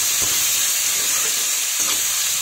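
Vegetables and green beans stir-frying in a pan for chicken egg fried rice, a steady close sizzling hiss with a couple of brief stirring scrapes, no voices.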